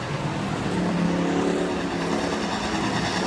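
Sportsman and hobby stock cars race at Rapid Speedway heading into turn three, a dense, continuous engine roar from the pack at steady loudness.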